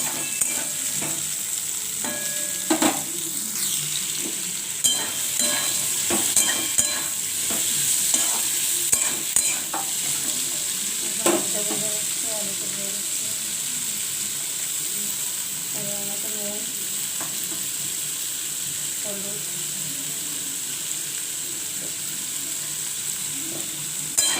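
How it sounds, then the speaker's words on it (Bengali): Bori and palta leaves with potato frying in a pan while being stirred: continuous close sizzling with repeated scraping and clinking from the spoon throughout. "ভেজে ভেজে করে নিলে ভালো লাগবে"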